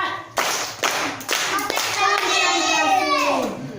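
A class of fourth-grade primary schoolchildren claps in counted rhythmic bursts, sharp grouped claps followed by children's voices chattering and calling out together near the end.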